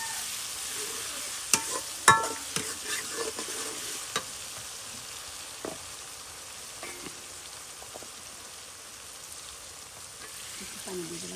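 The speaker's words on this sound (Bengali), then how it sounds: "পেঁয়াজ রসুন কষানি হয়ে গেছে" Onion and garlic sautéing in oil in a pan for a Bengali tilapia dish with new potatoes and beans: a soft continuous sizzle with a cluster of scraping, clinking stirs early on, close and moderately quiet, with no talking.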